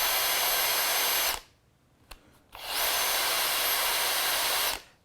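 A Metabo 18V cordless drill fitted with a fresh 5.2 battery whirs at high speed, stops for about a second with a couple of faint clicks, then runs loudly again for two seconds.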